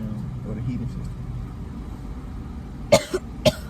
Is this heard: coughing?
yes